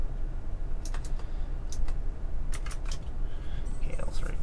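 Clicky computer keyboard typing in short irregular bursts, close and moderately loud over a steady low background hum, with no voices.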